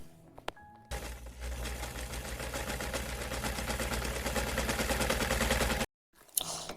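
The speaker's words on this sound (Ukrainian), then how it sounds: "Послухайте звук роботи швейної машини." A sewing machine running steadily for about five seconds, a close, even mechanical whir with a fast rapid stitching rhythm, bracketed by a few clicks before it starts and an abrupt stop near the end.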